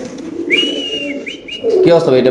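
Young dragon pigeons at a busy pigeon market give thin, high whistling squeals in short bursts, heard close and fairly loud, with a voice talking over them near the end.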